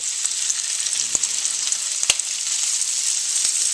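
Spam slices frying in a pan, with a steady, bright sizzle and crackle held throughout and a few sharp pops and clicks, no voices.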